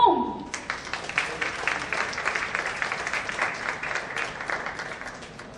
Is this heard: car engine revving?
no